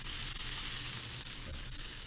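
Beef sizzling steadily in a hot pan while being cooked for a soy-sauce beef dish, a dense continuous frying hiss with faint crackles, close and alone without talk.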